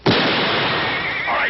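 A single loud, close gunshot in a Western drama, a sharp blast that rings out and decays slowly over a second and a half, dominating everything with no talk over it.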